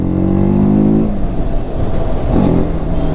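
A loud, close TVS Apache RTR 310 motorcycle engine revs up and then settles into a rough, throbbing idle, with no voices.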